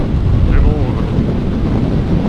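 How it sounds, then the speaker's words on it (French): Strong gusty wind buffets the microphone during a road trip through the Cévennes, a loud, steady low roar that runs throughout, with a brief voice-like sound near the start. "Il y a beaucoup de vent quand même."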